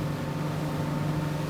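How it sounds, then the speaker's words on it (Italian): Aquador 250 HT motorboat cruising at about 17 knots, its engine a steady, loud droning roar with a strong low hum, mixed with rushing water and wind and no talking. "sentiamo il rombo del motore"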